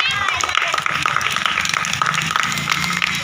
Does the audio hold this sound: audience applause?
yes